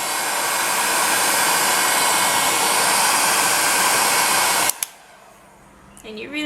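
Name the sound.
heat gun warming polymer clay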